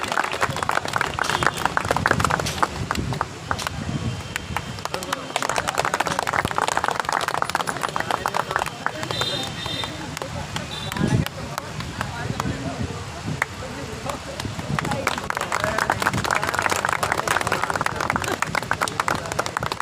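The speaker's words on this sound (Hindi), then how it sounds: "उनका जोरदार तालियों से स्वागत है।" Applause from an event audience welcoming the chief guest at a news channel branch inauguration, sustained clapping with crowd noise, loud and near, running throughout with some talk mixed in.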